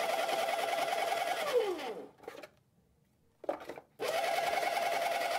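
A Baratza Encore burr coffee grinder set to its finest setting runs with a loud, steady whine, cuts out for about two seconds with scattered rattles of beans, then starts up again at full volume.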